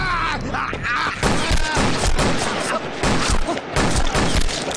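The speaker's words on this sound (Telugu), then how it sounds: "ఎవర్రా షూట్ చేస్తున్నది ఎవరు కాల్చింది" A burst of gunfire in a Telugu action movie scene, loud rapid shots and thuds layered with music and shouting voices, continuous and dense.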